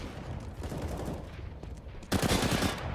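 AK rifle gunfire in a CS:GO match on the Nuke map, dense rattling bursts of automatic fire with a louder, closer burst near the end, no talking.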